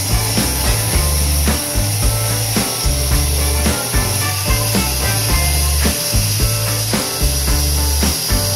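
A wooden kitchen counter board is cut to size with a saw, fitted inside a moving van for a tiny home build. The near, steady rasp repeats in regular strokes with no talk, while a low hum runs underneath.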